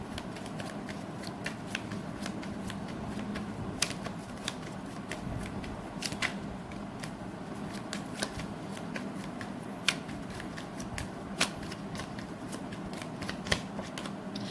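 Tarot cards shuffled and drawn in a steady stream of soft riffling with crisp, sharp snaps of single cards, close and moderately quiet, no talking.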